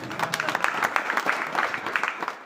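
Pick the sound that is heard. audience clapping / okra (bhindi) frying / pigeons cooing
audience clapping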